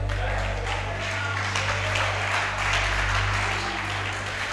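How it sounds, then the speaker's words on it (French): A congregation at a church service applauds, steady sustained clapping mixed with a low electrical hum and crowd voices throughout. "Acclamez le Seigneur pour lui."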